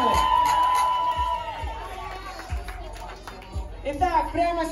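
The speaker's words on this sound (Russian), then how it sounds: "овации, дайте еще немного шума для этой битвы" Crowd at a kids' 2x2 hip hop dance battle cheering and shouting loudly over pounding music beats, with whoops and a bright tone riding on top of the dense noise throughout.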